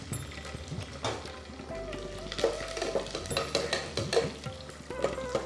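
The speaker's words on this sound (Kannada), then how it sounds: "ಗೋಡಂಬಿ ಒಂದು ಸ್ವಲ್ಪ ಫ್ರೈ ಆಗಲಿ" A handful of cashews fry in tempering oil with curry leaves for tomato bath, sizzling close by as a spoon scrapes and stirs the pan with repeated clinks and knocks.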